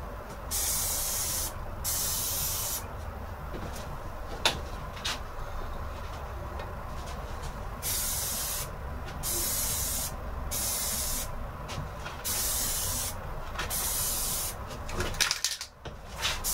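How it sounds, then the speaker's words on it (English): Long hissing bursts of spray paint from an aerosol can onto bicycle suspension fork lower legs, repeated with short pauses between them, close and steady, with no voices. "Probably shouldn't spray the paint directly to the camera."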